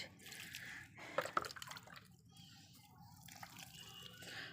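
Water is poured over potted garden plants and flowers in winter. Close splashes and drips cluster in a short burst, then give way to a faint, irregular trickle.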